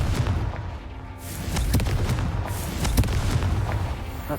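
A booming Confringo explosion spell from Hogwarts Legacy, a series of loud blasts and thuds layered over rumbling battle noise, close and forceful.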